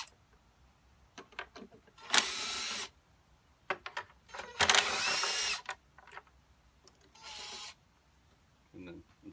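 A 10 mm socket wrench removes the plenum on a Hyundai Santa Fe or Kia, with quick bursts of ratcheting clicks between pauses and a few short mechanical knocks and scrapes.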